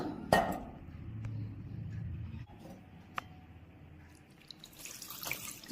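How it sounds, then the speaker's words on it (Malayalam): Cold water is poured over freshly made homemade paneer to rinse it. A short splash comes first, then a soft running trickle and faint clinks over a few seconds, quiet and close. "ഇതിലേക്ക് തണുത്ത വെള്ളം ഒന്ന് ഒഴിച്ചിട്ടൊന്ന് കഴുകിയെടുക്കാം"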